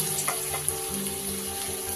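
Mustard oil sizzles steadily as potatoes fry in a pan, a continuous crackling hiss with occasional faint clinks.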